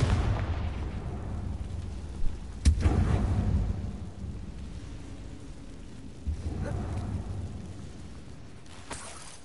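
The Confringo blasting spell from the video game Hogwarts Legacy explodes in a few heavy booming blasts with low rumbling tails, separated by quieter stretches.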